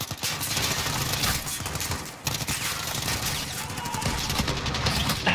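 Sustained gunfire in the Modern Warfare campaign, fast bursts of shots close and loud, with a short gap near two seconds before the firing continues.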